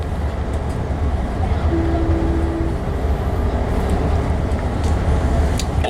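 Amtrak Capitol Corridor train #531, Richmond to San Jose, heard from on board as a steady, loud rumble of wheels on rails with a faint sustained tone partway through; no talking.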